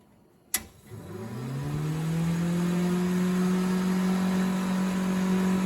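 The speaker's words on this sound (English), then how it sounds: "Well, the heater is installed. Does it throw heat? Well, it blows air pretty good." A click, then the heater blower fan of an MG TF car whirs up to a steady, droning hum, close by and running continuously with no voices.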